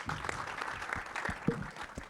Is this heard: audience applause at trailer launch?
yes